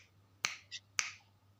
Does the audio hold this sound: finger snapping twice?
yes